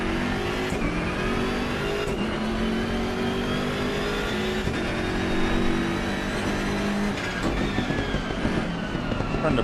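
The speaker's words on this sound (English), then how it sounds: "I think it sounds really good, the M6." BMW M6 GT3 race car engine in the Assetto Corsa Competizione racing game, a loud sustained drone that rises and falls through gear changes and revving, with short breaks at each shift.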